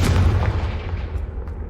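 A Confringo blasting spell explodes in the video game Hogwarts Legacy: one loud, close boom with a deep rumble that fades away over the next second or two.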